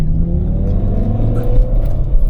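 A BMW E60 M5 V10 engine rumbles close by at a steady, loud idle or low roll for a couple of seconds, with no voices over it.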